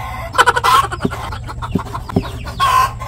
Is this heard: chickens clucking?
yes